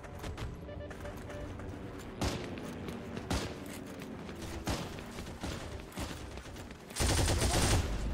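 Gunfire from a WWII weapon in the Heroes & Generals video game: steady rapid shots crack through the fight, some louder bursts stand out, and a dense final volley ends it.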